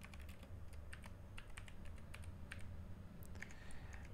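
Computer keyboard keys typed in a quick, irregular run of close, crisp clicks while a short database entry is filled in for an ICT exam task, with no talking.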